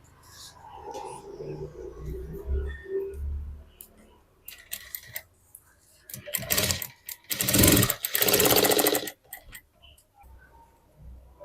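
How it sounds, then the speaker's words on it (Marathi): Sewing machine stitching blouse fabric, with quiet handling and rustling first, then short bursts and two longer loud runs of rapid stitching close by. "हे आत घ्यायचं आहे व इथून टीप मारायची आहे"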